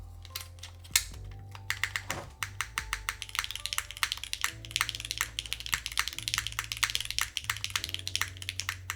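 A Keycult 1800 mechanical keyboard with MX2A switches clacks in rapid, close bursts of typing, with crisp keystrokes and a few deeper spacebar thocks, quietly and with no talk.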